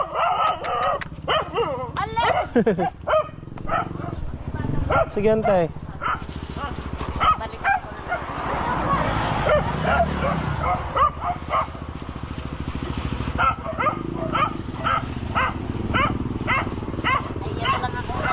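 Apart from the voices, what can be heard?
dog barking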